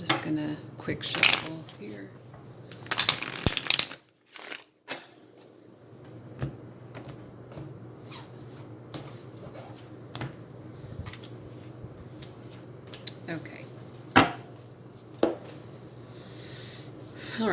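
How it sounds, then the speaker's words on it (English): Tarot cards being quickly shuffled at a table, giving soft papery riffles and taps in short bursts with brief pauses. "I'm just gonna quick shuffle here"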